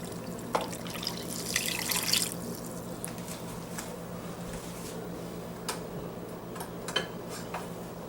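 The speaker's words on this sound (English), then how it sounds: "I'm going to add 2 cups of water." Two cups of water go into a pot of chicken quinoa chili, giving a brief splashing pour, then scattered soft drips and taps in a quiet kitchen with no talking.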